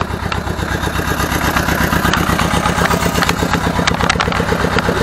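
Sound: Ursus C-325 tractor engine running during a ride

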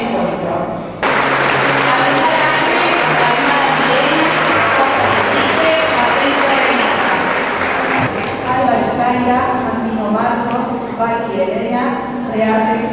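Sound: warm applause welcoming the 2023 graduating class

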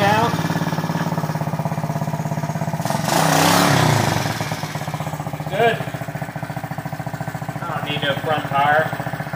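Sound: pit bike engine running during clutch test

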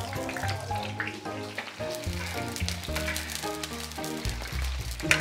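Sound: scallions and onions frying in oil in a pan

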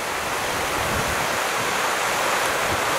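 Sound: stream of clean running water

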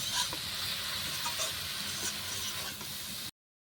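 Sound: greens frying in a pan on a clay stove

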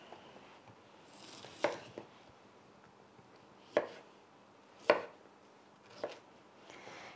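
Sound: knife chopping bamboo shoots into large pieces

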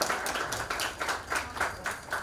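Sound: audience giving a round of applause

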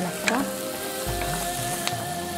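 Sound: vegetables and tomatoes sautéing in a pan

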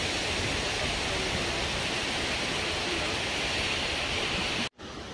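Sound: waterfall, Ouzoud falls in Morocco

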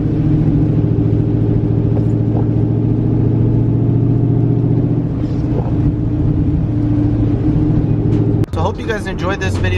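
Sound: car driving in slow traffic

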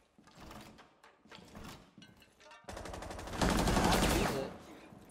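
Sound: shotgun gunfire in a shooter video game (Rainbow Six Siege)

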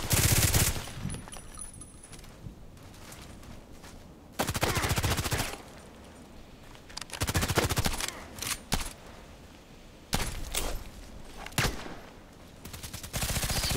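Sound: gunfire of other players in a shooter video game

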